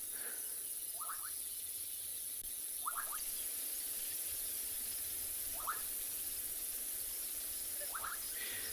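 Bubbling kassina frogs calling at a waterhole in South Africa during an afternoon safari: four short, bubbling call bursts spaced a couple of seconds apart, moderately distant, over a steady hiss of insects and ambient night-like background.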